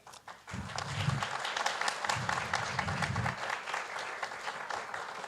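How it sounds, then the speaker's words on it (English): Audience applause for a contestant at a Falling Walls Lab event in Ecuador, a full, sustained round of clapping that starts abruptly and carries on steadily throughout. "A big round of applause for Emilia Moreno, who is our first one"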